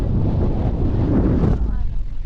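Strong wind blasts into the microphone on the windy top of Mount Brigino in DRT, Bulacan, a loud, low buffeting rumble that eases slightly near the end, with some faint talk underneath.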